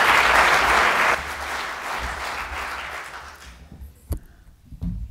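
An audience at an evening talk on oil prices and Middle East geopolitics applauds to welcome a speaker, loud clapping that fades after about a second into scattered claps and a few thumps.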